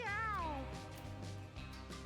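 A video game cat lets out a loud, drawn-out meow with a falling pitch at the start, then fainter game sounds continue in a sewer setting.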